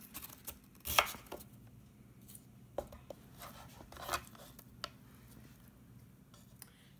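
A knife cuts food on a board in irregular taps and chops, some sharper than others, close but fairly quiet, with no talking.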